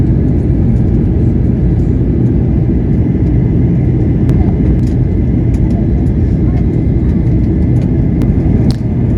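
Steady, loud low-frequency roar of an airliner cabin descending toward Cape Town, engine and airflow rumble filling the space continuously, with faint clicks and rattles from the cabin above it and a voice talking over the drone.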